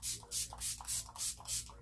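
Fix Plus Coconut setting spray misted from a pump bottle during a yellow eyeshadow makeup application: six or seven short, close, hissing spritzes in a steady rhythm, with no talking.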